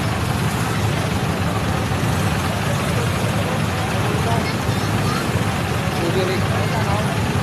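An overheated motorcycle engine runs in Muzon, San Jose del Monte, Bulacan, giving a loud, steady, close rumble with constant broadband hiss and low throb that holds unchanged for the whole stretch.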